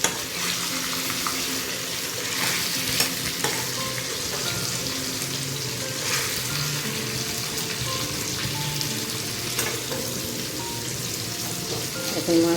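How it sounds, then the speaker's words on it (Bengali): Fish sizzle steadily in hot oil in a pan, a dense, continuous crackle with occasional sharper pops, close and moderately loud with no voices. "এখন মাছগুলো তারপরে ভাজা হোক"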